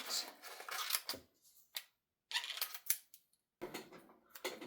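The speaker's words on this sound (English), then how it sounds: "let me find my clear vellum and cut out another set of wings" Scissors snip through a sheet of clear vellum while cutting out a wing shape, giving a few short, close, crisp cuts separated by pauses.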